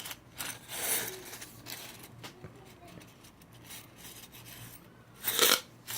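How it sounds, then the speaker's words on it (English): A small triangular jeweler's file rasps around a metal hypodermic needle in a few short, fairly quiet strokes, with one louder, harsher stroke near the end. "I just took a standard, everyday, triangular jeweler's file and filed it all the way around."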